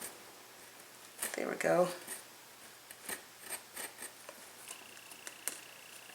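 Dried glue is scraped off thin Bible pages in a series of short, close scratchy strokes, with a brief rustle of paper and a few words spoken quietly.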